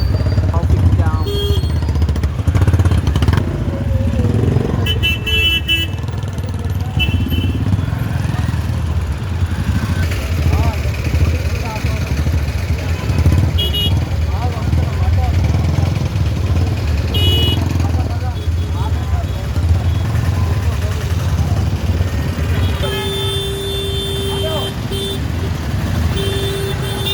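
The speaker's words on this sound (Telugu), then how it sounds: "Traffic jam." Dense street traffic jam in Vijayawada, motorcycles and cars idling and revving, with scattered horn toots, steady and loud throughout, people talking over it.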